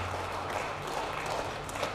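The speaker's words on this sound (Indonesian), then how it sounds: "Tepuk tangan itu Mas." An audience at a cultural congress gives sustained applause, a dense, even wash of clapping that holds steady for the full two seconds.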